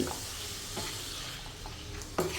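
Chicken pieces fry in a pan with salt, giving a close, steady sizzling hiss broken by several scraping stirs of a spatula, the last one sharper and louder.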